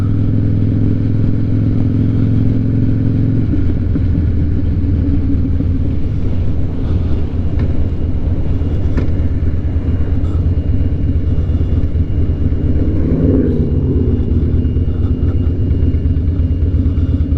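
Harley-Davidson Night Train motorcycle with freshly replaced spark plugs idling nearby, a loud steady low rumble that shifts to a slightly different throttle note after a few seconds, running alone without talk.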